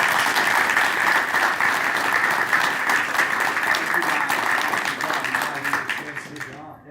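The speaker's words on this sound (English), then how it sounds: "One more round of applause for our Rangers" A room full of people at a board meeting gives a round of applause for the Rangers, loud sustained clapping that holds steady for several seconds before tapering off, with voices faintly mixed in.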